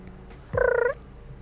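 A video game creature makes a single short, chirpy trilling purr, close and clear, rising slightly then cut off, against a quiet low hum.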